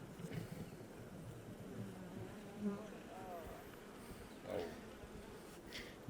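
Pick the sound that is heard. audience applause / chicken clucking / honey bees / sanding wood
honey bees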